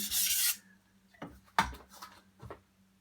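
A blade is drawn over a sharpening stone to raise a burr: a few short, close rubbing strokes, the first longer and louder, the rest quick and faint.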